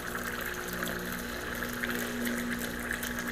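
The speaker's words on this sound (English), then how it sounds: "this is only going to put hot water through here, not steam" Hot water from a Wirsh 20-bar CM1665 espresso machine running into a cup, a steady pump hum with continuous gushing water, close and even throughout with no talking.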